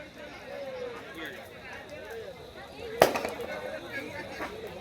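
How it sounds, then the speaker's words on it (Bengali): Bamboo burns in a village bonfire, with a continuous crackling roar and one sharp loud pop as a knot bursts, while people talk nearby throughout. "বাঁশের গিট ফাটছে"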